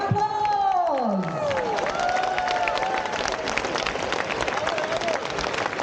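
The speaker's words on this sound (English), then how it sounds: "let's give everybody a big round of applause!" A large crowd at an Olympic Day walk event applauds and cheers, dense steady clapping and crowd noise filling the space, with a few tonal calls or whistles sliding over the top early on.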